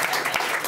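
A group of about twenty students applauding in a studio, a brief, steady burst of clapping heard close and alone.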